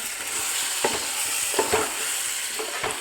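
A spoon stirs chicken gravy in a pot, a few scraping strokes and soft knocks over a constant bubbling sizzle, close up with no voices.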